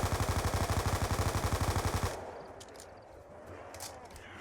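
Rapid automatic gunfire in a video game hammers out in a steady, loud, even rhythm for about two seconds and then stops abruptly, leaving quieter scattered game sounds.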